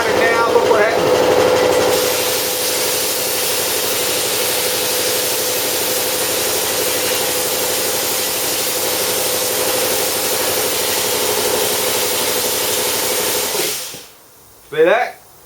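An air compressor runs during plasma cutting, a loud, steady broadband hiss and drone that holds for about twelve seconds, then cuts out abruptly, followed by a brief voice.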